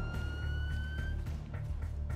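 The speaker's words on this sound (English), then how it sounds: "we hear the sirens" A wailing police siren in GTA rises and falls continuously over a low rumbling engine drone, steady and moderately loud with no talking.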